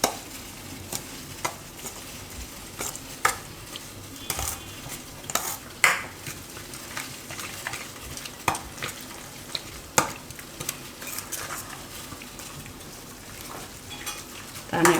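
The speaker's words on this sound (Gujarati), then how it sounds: "આમાં આપણે આ સૂજી નાખી દેવું અને દહીં." A spoon stirs semolina and curd into washed poha in a bowl for vegetable rosti, making a steady run of scraping, clicking and soft wet squelches against the vessel. No talking.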